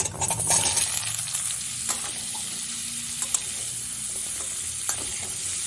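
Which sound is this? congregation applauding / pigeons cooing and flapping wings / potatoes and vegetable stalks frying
potatoes and vegetable stalks frying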